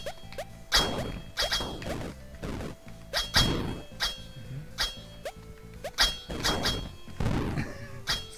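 Cannon shots and traps in the platform video game Bloody Trapland, heard as repeated sharp thunks and clanks with metallic ringing, several loud hits spread through a busy stretch of game sound, no talking.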